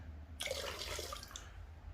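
Water swishes and sloshes briefly in a gold pan while paydirt is washed, a short splashy burst over a low steady background hum.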